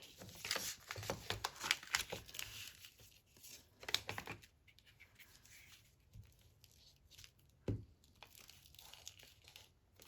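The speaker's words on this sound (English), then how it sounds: "Let's tear this off" Paper or fabric being torn and crinkled for a trifold journal, a cluster of rough ripping and rustling bursts up front, then quieter handling with one sharp snap near the end, close and fairly soft.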